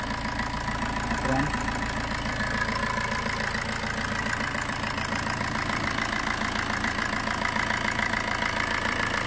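A 2013 Maruti Suzuki Swift VDI diesel engine idles steadily up close, a constant rumbling clatter with an even, unchanging loudness, while someone talks over it.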